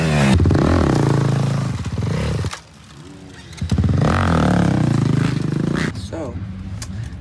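A motocross dirt bike engine revs up and down loudly nearby, rising and falling in pitch, with brief clattering and a short lull midway.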